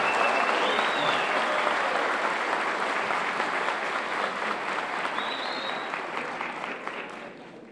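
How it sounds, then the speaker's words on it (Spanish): A strong round of applause at a Centro Democrático presidential candidate convention, dense, sustained clapping that gradually fades toward the end, with faint whistles and voices within the crowd. "para que tenga un aplauso especial, fuerte para ella"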